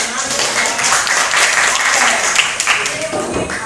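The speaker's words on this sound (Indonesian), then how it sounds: "Ada yang semua tepuk tangan dulu buat yang sudah menang." A school class in an Indonesian-language lesson applauds the winners with steady, close crowd clapping that fills the whole stretch at an even level.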